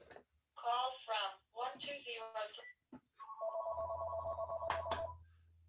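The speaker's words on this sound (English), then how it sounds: "And of course, my phone has to ring." A phone rings during a remote board of education meeting, a steady electronic ringtone sounding after someone talks, then continuing loudly with a low hum beneath it.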